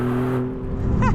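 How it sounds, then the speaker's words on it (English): Engine of a 2025 Maserati GT2 Stradale on the road, a loud close sustained drone with strong low harmonics, rising sharply in pitch near the end as it revs. "It starts to vibrate and sound more aggressive in the higher RPM."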